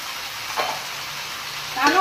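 Chopped ridge gourd goes into a pan of onion and tomato frying in a little oil. A steady sizzle is broken by a couple of brief scraping stirs, close and moderately loud, with no talk.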